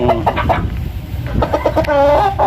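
Broodstag gamefowl rooster, a Wilson Gilmore bloodline, in a backyard breeding pen, giving repeated short clucks and throaty calls at close range over a steady background of rustling and other birds, with no talking.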